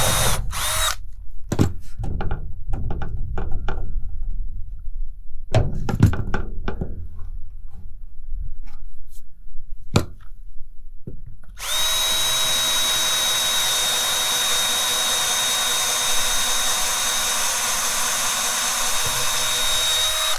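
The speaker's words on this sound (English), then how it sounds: "we'll be able to drill this hole" A power drill bores a hole while a kayak rack is mounted on a deck. Several short whirs and knocks come first, then the drill runs in one loud, steady whine for the last several seconds.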